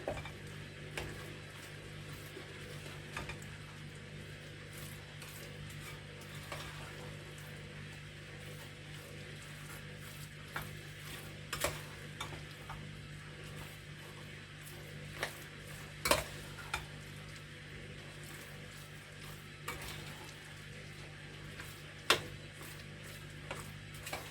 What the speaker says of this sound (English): so we're just going to mix all this in. It is quite a wet mix.